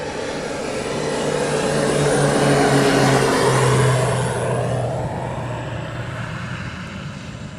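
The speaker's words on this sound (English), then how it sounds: "So they're doing a full stop landing." A military training aircraft, such as a BAE Hawk T2 or Texan T1, makes a full stop landing at RAF Valley, its engine roar swelling to a peak mid-way and then fading as it passes, with no talk.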